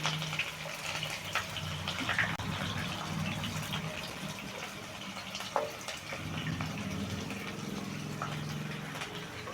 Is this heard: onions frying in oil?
yes